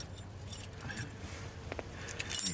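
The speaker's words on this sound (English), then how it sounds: "So I'll need the keys." A bunch of keys jingles and clinks while being handed over, a string of light metallic rattles with a brief louder clatter near the end over a low background hum.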